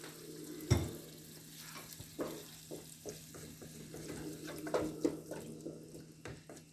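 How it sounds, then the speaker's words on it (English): Water is poured into a pot while making turkey chili, giving irregular splashes and gurgling bursts at close range over a low kitchen hum, with no talking. "with 2 cups of water. I would have put it in this pot, so I'm going to pour it over."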